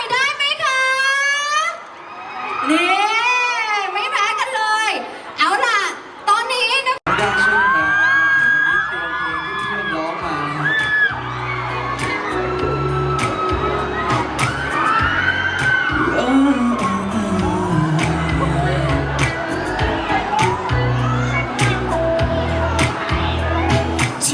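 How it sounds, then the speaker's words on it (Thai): Fans at a mall event in Central Khon Kaen scream and cheer loudly, a dense crowd roar that swells after an MC shouts over the PA, continuing with whoops and shrieks throughout. "ชั้นสามอย่ายอมนะแฟนคลับชั้นสามขอเสียงกรี๊ด"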